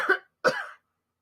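Two separate coughs about a third of a second apart, close and fairly loud, with silence after; no talking.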